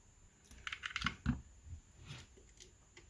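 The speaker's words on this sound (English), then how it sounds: "I'm just going to put a bit of tape just on here." Strip of tape pulled and pressed down to secure a cable on a Back to the Future DeLorean scale model build, a brief flurry of close crinkly tearing and tapping sounds, quiet otherwise.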